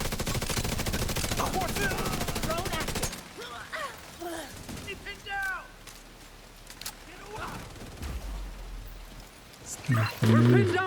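Automated turret fire at a video game base's main gate, rattling in a rapid sustained burst at first, then dropping to scattered shots and chatter-like game effects, with a loud burst returning at the end.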